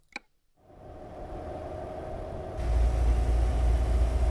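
Truck engine and exhaust in American Truck Simulator, a steady low rumble that builds after a brief click, then swells louder and bassier partway through, heard alone without talk.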